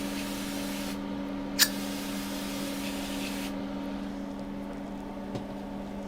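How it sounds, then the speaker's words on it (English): Freeze spray hissing onto a MacBook logic board in a repair workshop, a steady spray lasting a few seconds over constant electrical hum, with a small click partway through. "Freeze spray is pretty much useless in this area of the world, but it will at least cool down the board a bit"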